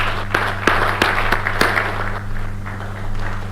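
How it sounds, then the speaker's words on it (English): A summit audience gives a round of applause for the technical team: a few sharp claps stand out over a steady wash of clapping, with a constant low hum from the room's sound system. "Let's give a warm round of applause to the technical team"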